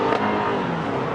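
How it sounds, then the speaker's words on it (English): The engine of a Toyota Camry SE revs in first gear, a close, loud and continuous roar heard alone for about a second. "Gear down into first and just listen to this engine"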